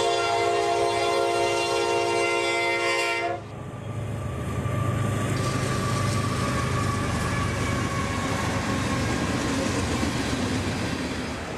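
A freight train's horn blares loudly for a few seconds, then cuts off, leaving the steady rumble and rolling clatter of the passing cars.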